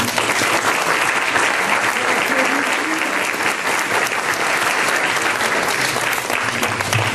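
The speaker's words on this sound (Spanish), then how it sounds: "Pido un aplauso, por favor, para el maestro Rubén Gallardo" Audience at the XXI Congreso Nacional Agrario in Mexico applauding maestro Rubén Gallardo, a dense, sustained round of clapping from a large hall, even and unbroken throughout.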